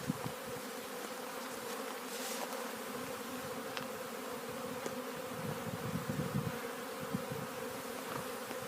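A steady, dense buzz of many honeybees flying around their hive fills the air, with individual bees droning past close by now and then.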